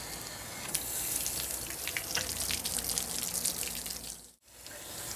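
Water drains and splashes steadily out of an RV water heater tank during a flush, a broad hissing rush with scattered drips that cuts out briefly near the end before resuming.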